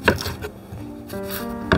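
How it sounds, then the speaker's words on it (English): A knife slicing onions on a wooden chopping board, a few soft knocks and rubbing cuts spaced irregularly, close and moderately loud. "Next thing I do is slice my onions"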